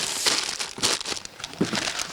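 Packets of pasta crinkle and rustle as they are packed into a humanitarian aid box, several close plastic crumpling bursts in quick succession.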